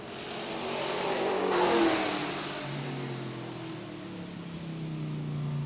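A 1959 sport Formula race car at a vintage grand prix. The engine revs rise to a loud peak, then settle into a steady mid-distance drone with pitch climbing again toward the end.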